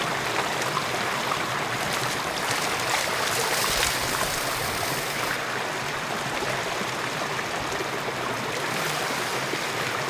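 Water rushes steadily through a gold prospecting sluice box outdoors, a continuous broadband wash and trickle that stays even and fairly loud throughout with no voices.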